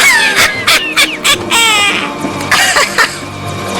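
Cartoon chickens clucking in a Garfield episode, a rapid series of loud, close, squawky cackles in short bursts with brief pauses between them.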